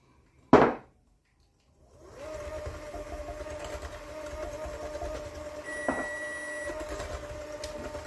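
A steady electric mixer whirs through banana cake batter, starting after a sharp knock and a short silence and running on at moderate volume with a brief clunk partway through.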